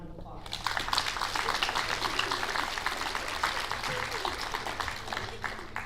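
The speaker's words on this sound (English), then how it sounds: "Let's give them a round of applause." A crowd applauding at a school sports awards assembly, dense even clapping that starts after a quiet moment and continues steadily, moderately loud and somewhat distant.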